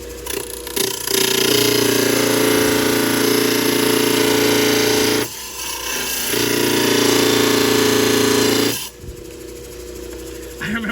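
A Diamond Pacific Genie trim saw attachment cuts stone with a loud, steady grinding whine, running in two long passes separated by a brief dip, then winding down.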